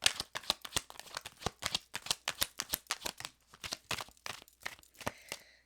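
Tarot cards riffled and shuffled in a rapid run of crisp snapping flicks, close and fairly quiet, continuing steadily for several seconds with no voices.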